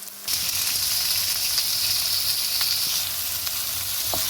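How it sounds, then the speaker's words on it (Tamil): Tomatoes sauté in a hot pan, a bright, steady sizzle that starts abruptly and holds loud and close throughout, with a few faint stirring clicks and no speech. "தக்காளி பழம் போட்டுட்டேன் வதக்க வேணும்"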